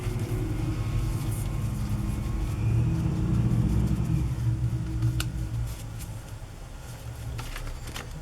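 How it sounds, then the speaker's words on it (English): A garbage truck rumbles outside with a low, steady engine drone and faint revving, muffled and distant, continuing for several seconds with a few light clicks nearby. "You might hear the garbage truck outside."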